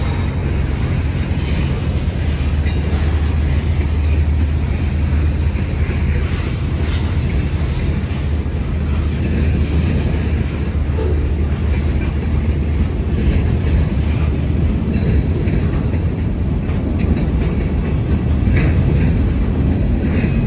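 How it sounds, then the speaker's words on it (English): Nightly Florida East Coast Railway rock train, a freight running from Medley to Fort Pierce, passing with a steady heavy low rumble and faint wheel clatter, continuous and fairly close. "they have to clear out of the main for outbound train 292, the nightly rock train from Medley to Fort Pierce"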